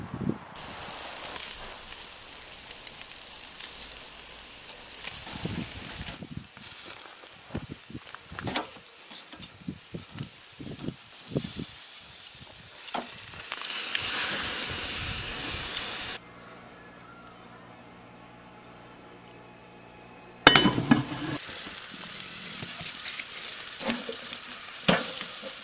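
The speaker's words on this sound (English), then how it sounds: "I have 2 ribeyes, 2 T-bones, and 2 Cajun sausages cooking on the barbecue right now" Ribeye and T-bone steaks and Cajun sausages cook on a barbecue, giving off uneven sizzling with clattering handling noises and a quieter stretch before the crackle returns loudly.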